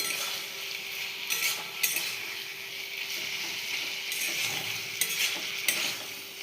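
Ground radhuni paste being stirred into a curry in a pan: a soft, steady sizzle with scraping spoon strokes and a few light clinks, fairly quiet and close, with no talking.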